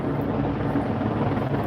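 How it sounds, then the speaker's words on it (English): A police helicopter passes over Los Angeles streets during a curfew night, a loud, steady low rotor drone that fills the whole moment without pause or voices. "You see the Ghetto Bird helicopter?"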